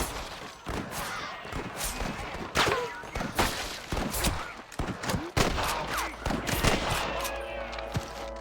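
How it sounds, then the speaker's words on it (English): Repeated bursts of gunfire in Red Dead Redemption crackle loudly in quick, irregular volleys, with game-style effects and brief shouting mixed in. "I can hear more gunshots."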